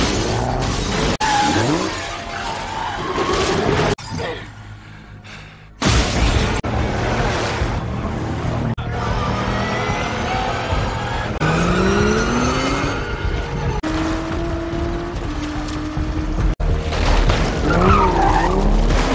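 Armored sedan in a film car chase, tires skidding and squealing in repeated sharp screeches over engine roar, with crashes and shattering impacts, a brief lull midway, then continuous loud action.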